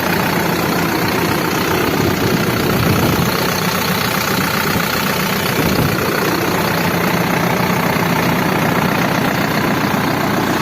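A 2018 tractor engine idles steadily outdoors, a continuous low, dense rumble that stays loud and unchanging throughout with no talk over it.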